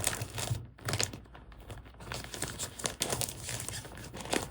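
A sticker being pulled from a sheet for a Hobonichi journal, close crinkling paper and plastic rustles with light taps and peeling sounds, no voices.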